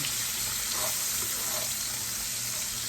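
Onion, a quarter of a very large one, sizzles in a greasy frying pan just below medium heat, a continuous close hiss that runs steady throughout, with no talk.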